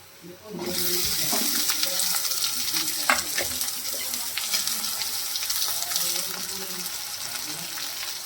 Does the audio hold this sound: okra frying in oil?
yes